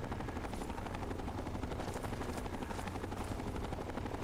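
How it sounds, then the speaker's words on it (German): A helicopter in the video game Fallout 3, a continuous rapid rotor thumping that stays steady and fairly prominent throughout, with faint gunfire-like bursts mixed in and no talking. "Und ich höre offensichtlich einen Helikopter."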